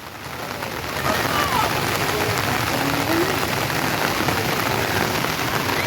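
Heavy rain drums on surfaces in a dense, continuous patter that builds over the first second and then stays steady and close, with faint voices now and then under the roar.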